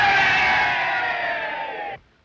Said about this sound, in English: Now let's have a big cheer for David Dornford, MP for Conderford